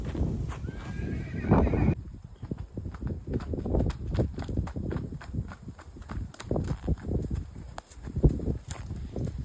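A pony whinnies near and clear at the start, followed by steady clip-clopping hooves walking on firm ground, with an occasional bird faintly in the background.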